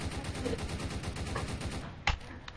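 AK gunfire in Roblox Prison Life pops in a fast, quiet volley of shots, followed by a sharper, louder crack near the end.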